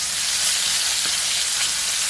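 Steady, loud sizzling of small freshwater fish frying crisp in a hot pan, a continuous crackling hiss with no voices.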